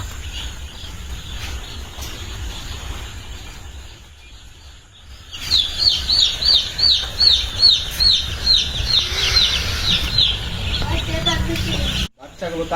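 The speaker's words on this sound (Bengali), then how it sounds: "আপনারা দেখতে পাচ্ছেন মুরগির বাচ্চাগুলোকে তাপ দেওয়া হচ্ছে।" Baby chicks under heat brooding on a poultry farm chirp in a dense, rapid chorus of high peeps, beginning after a quieter stretch of low background rumble. The chirping stays loud and close.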